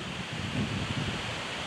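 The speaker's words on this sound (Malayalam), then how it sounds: "എന്തൊരു വലിയ കാറ്റ്" Strong wind gusting outdoors, likely during a vehicle ride, heard as a steady broadband rush with buffeting on the microphone across the whole stretch, with no talk.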